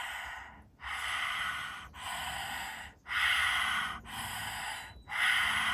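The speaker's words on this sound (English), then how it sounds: "Moving into our dog breath, tongue out, stretch it out, breathing in and out through the back of the throat." Dog breath pranayama with the tongue out, panting in and out through the back of the throat: about six forceful, raspy breaths in a steady rhythm, close and loud, with short pauses between them.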